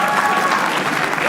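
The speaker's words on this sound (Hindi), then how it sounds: "विवेक संतानी के लिए तालियां प्लीज" A short burst of comedy roast show audience applause, dense clapping at full volume with faint voices mixed in, continuing evenly for just over a second.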